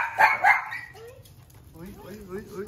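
Dogs bark as a gate opens: two loud close barks, then softer whimpering and yipping.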